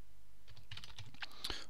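Close, quiet typing on a computer keyboard while a product description is written, a quick irregular patter of key clicks that gets busier toward the end, with no voice.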